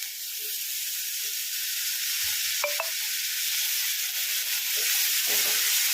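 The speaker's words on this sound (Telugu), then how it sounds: "ఈ పేస్ట్ అయితే మొత్తం బాగా వేగిపోయింది ఇందులో కట్ చేసుకున్న ఒక నాలుగైదు టమాటాలు వేసుకున్నాము" Chopped tomatoes drop into a pan of ginger garlic paste frying for a cauliflower tomato curry, giving a steady close sizzle with a few brief stirring scrapes and knocks.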